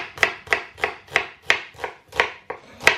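Knife slicing through a mix of old and new onions, including a big white one, on a board: nine crisp, evenly spaced cuts in a steady rhythm, close and clear with no talk.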